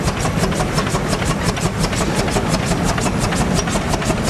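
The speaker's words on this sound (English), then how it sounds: "It looks like this might be our last steam engine coming through here next. This is a John Goodison engine." A Canadian-built John Goodison steam engine runs at a steam expo, giving off a loud, steady, rapid chuffing beat with rumbling mechanical noise close by and no talk.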